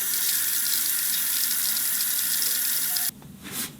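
Water rushes steadily through a newly installed NU Aqua 4-stage whole-house salt-free water softener on its first run, a loud continuous hiss that drops off abruptly near the end into quieter gurgling.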